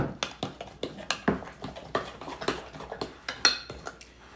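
Corn casserole being mixed with melted butter in a dish, a spoon scraping and knocking against the dish in a steady series of clinks and soft thuds, close and clear with no talking.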